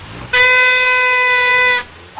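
A single loud, buzzy torotot toy party horn blown in one steady blast lasting about a second and a half, close by on a city sidewalk.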